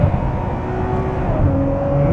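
Ferrari 599 GTO V12 revving hard and loud up close, a dense, steady race-car engine roar with shifting harmonic tones and no speech.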